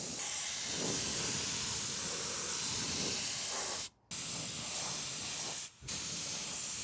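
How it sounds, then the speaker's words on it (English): Steady hiss of a spray gun spraying epoxy primer onto the chassis rails of a Mitsubishi Lancer Evolution VI, close and continuous, cut by two brief pauses. "spraying on 2 coats of epoxy primer"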